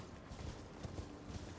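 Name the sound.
horse hooves clip-clopping in the video game Elden Ring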